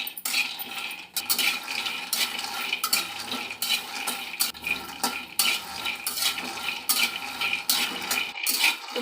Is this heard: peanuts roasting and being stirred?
yes